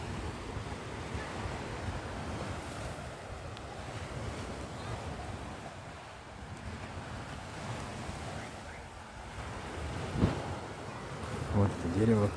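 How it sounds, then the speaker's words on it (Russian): Sea waves wash onto Uchkuevka beach near Sevastopol in the evening, a soft steady surf with wind rumble, fairly distant and faint, with someone talking briefly over it. "Послушаем шум волн."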